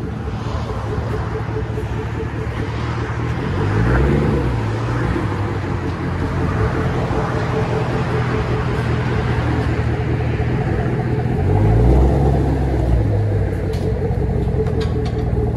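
A 2015 Chevy Camaro SS with a 6.2L V8 and dual straight-pipe exhaust rumbles loud and close, swelling in a couple of brief revs, while people talk over the engine.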